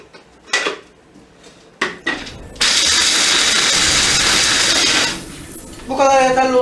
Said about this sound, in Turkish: fıstık ve cevizi arkadaşlar güzelce robottan geçireceğim